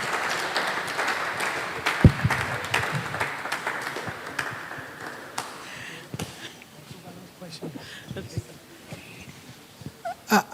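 A church audience after a lecture gives scattered applause: loose hand claps, loud at first and thinning to sporadic claps, with voices murmuring underneath.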